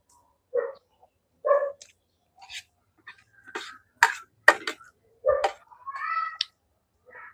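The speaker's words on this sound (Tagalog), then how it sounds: "Kinausap ni Chris si Aki, yung alaga niyang aso, tumahimik." A pet dog makes a string of short, separate yelps and barks with brief gaps between them, close and fairly loud against a quiet background, some calls drawn out almost like meows.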